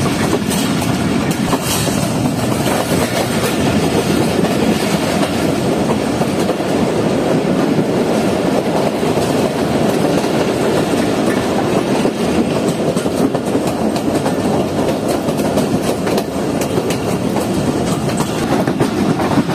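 The Jaffer Express train rolls steadily along the rails in Pakistan near Sukkur with a continuous rumbling roar and faint rhythmic clatter of wheels, loud and close throughout.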